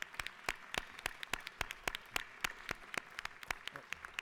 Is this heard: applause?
yes